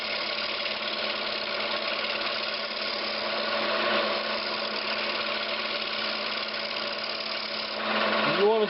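A lathe tool scrapes lightly across a spinning spalted oak vase, giving a steady, even whirring hum with a faint rasp that holds level throughout.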